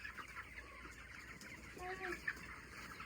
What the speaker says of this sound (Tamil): இங்கேயும் ஒரு கோழியை காட்டலாம்.